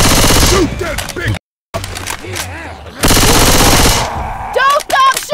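Rapid automatic gunfire fills the scene in the zombie shooter Left 4 Dead 2 during a fight with a tank, loud and dense in bursts with a brief silent gap, while voices shout over the shooting.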